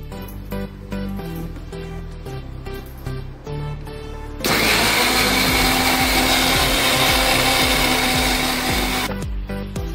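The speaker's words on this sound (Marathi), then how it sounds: "हे मिक्सर मध्ये आता वापरून घेऊया आपण" A mixer grinder whirs loudly, starting in short pulsing bursts, then running in one steady high whine for several seconds before stopping, as soaked moong dal is ground into dosa batter.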